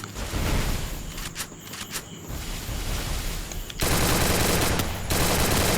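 Rapid automatic gunfire bursts from a mobile shooter video game in a 4v4 custom squad match, loud and dense for most of the clip, with a sharper, brighter stretch of firing near the end; no talking.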